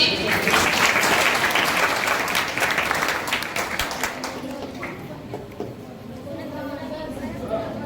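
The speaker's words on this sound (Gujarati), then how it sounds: "તાળીઓથી બતાવશો એમને." A crowd at an Independence Day celebration at a college of education in India applauds loudly, the clapping thinning and fading over several seconds while voices murmur underneath.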